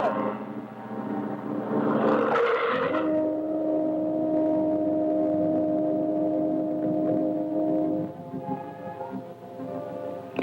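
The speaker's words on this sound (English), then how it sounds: "that's the truck from the county morgue" A truck from the county morgue drives past, its steady engine drone loud and close, holding a low continuous hum with a brief rougher surge near the start before easing off toward the end.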